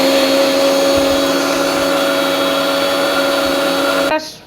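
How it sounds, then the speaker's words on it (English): A mixer grinder grinding peanuts, cumin and fenugreek into powder in a kitchen whines loudly and steadily up close, then cuts off abruptly at the end. "Mixie grinding."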